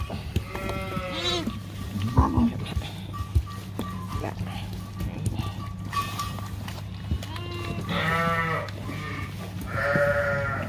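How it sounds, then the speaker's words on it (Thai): Meat sheep on a farm bleat several times in wavering calls, close and fairly loud, mixed with other livestock noise and people talking nearby. "อันนี้แกะ เป็นแกะเนื้อเนาะจ้ะ"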